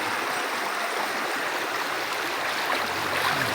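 A river flows at Paraiso Resort in San Narciso, Zambales, a steady broadband rush of moving water, close and continuous with no other sounds.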